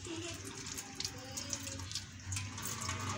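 A kitchen tap runs steadily into a sink while potatoes are washed, water splashing and trickling close by at a low, continuous level with no talk.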